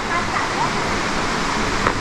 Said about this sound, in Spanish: Aquí va el río.